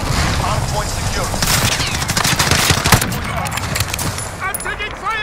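Gunfire during a Call of Duty: Modern Warfare hardpoint match, rapid bursts of shots and crackling fire up close, with radio-style voices talking over the action.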